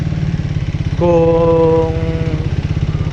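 A Triumph Speed 400 motorcycle engine idles loud and close with a steady, throbbing pulse, briefly joined by a short tonal sound and a single spoken word.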